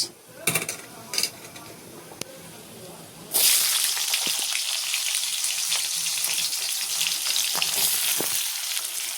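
Onions hit hot oil with cinnamon, cloves and cardamom for a paneer dish, bursting into a loud, steady sizzle after a few clinks and light handling noises at the start.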